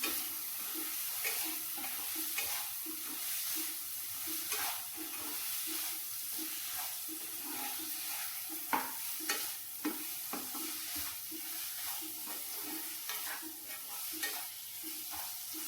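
A utensil stirs and scrapes through sizzling paneer bhurji in a pan, with steady frying crackle and repeated scraping strokes throughout, no voices.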